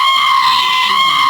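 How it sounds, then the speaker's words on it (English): Screaming Goat app sound effect, a single loud, harsh bleating goat scream held for just over a second, blaring and distorted through a speaker. "Screaming Goats are the funniest thing on the planet"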